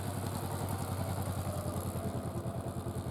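Motorcycle engine idling and running steadily during a rider training session for A2 and A licences, a close, low, even rumble with a rapid pulsing beat throughout.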